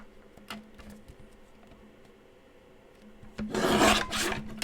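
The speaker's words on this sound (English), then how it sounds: "I love the guillotine trimmer for that kind of stuff" A guillotine paper trimmer cuts through paper, faint light ticks and rustles at first, then a loud close rasping swish of the blade slicing through in one stroke near the end.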